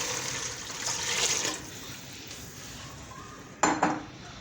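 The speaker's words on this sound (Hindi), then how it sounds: "तो सबसे पहले हम इसमें पानी डालेंगे।" Water pours from a jug into a cooking pot for jeera rice, a steady splashing stream that trails off, then a sharp clank of metal cookware near the end.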